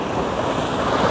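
A river rushing past a rock-hop crossing on the Appalachian Trail, a close, loud, continuous broadband wash of flowing water with no voices over it.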